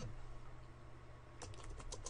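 Code is typed on a computer keyboard, with a quick flurry of close, distinct key clicks in the second half over a steady background hum.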